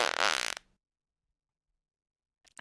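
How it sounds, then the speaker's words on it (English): A loud, close, buzzy fart sound effect lasts about half a second and then cuts to silence, with a faint sharp noise at the very end. "That's a fart."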